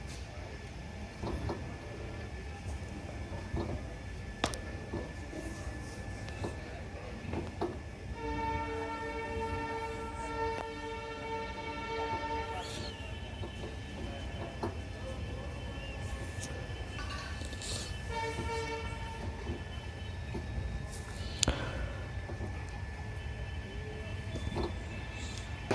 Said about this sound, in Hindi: अयोध्या से प्रस्थान हमारी ट्रेन का